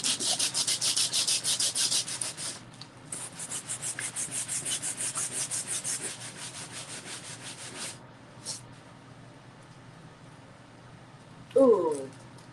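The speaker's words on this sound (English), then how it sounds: "I'm scrubbing hard" Hard, rapid back-and-forth scrubbing on a painting surface, loud, close and rhythmic for several seconds, then easing off into scattered softer rubs, with a brief voice near the end.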